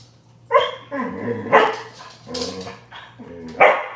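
A dog barks several times close by, short sharp barks mixed with whiny yips, with brief pauses between them.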